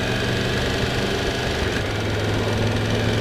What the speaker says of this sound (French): Le moteur il fait un bruit de machine à coudre.